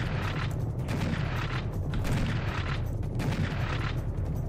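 Continuous rapid gunfire rattles without a break in the classic Serious Sam shooter game as a charging bull closes in, dense and loud throughout.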